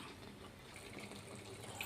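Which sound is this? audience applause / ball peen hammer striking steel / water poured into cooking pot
water poured into cooking pot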